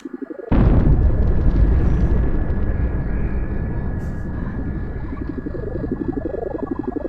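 A thrown grenade in Ctrl Alt Ego bursts in a single loud blast, sudden and heavy, then rumbles and slowly fades into a long ringing tail with pulsing warbles.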